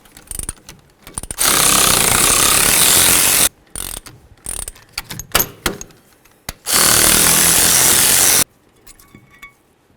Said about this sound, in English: Now the next thing we need to do is remove our caliper bracket bolts.